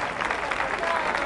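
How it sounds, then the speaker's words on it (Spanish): A theater audience in Paraná applauds the Ballet Forza Giovane of Santa Fe after a Sicilian tarantella dance: dense, continuous clapping that fills the hall at a steady, even level, with crowd noise mixed in. "fuerte, fuerte el aplauso para despedir a Forza Giovani"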